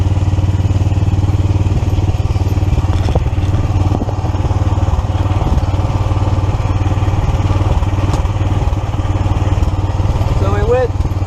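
A 1982 EZ-GO three-wheel cart fitted with a 420cc Predator engine and a stage 1 kit runs steadily near a pond, its engine thrumming loud and close with some clatter and thumps.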